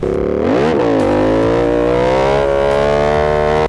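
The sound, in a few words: Aprilia RS 457 motorcycle with full-system exhaust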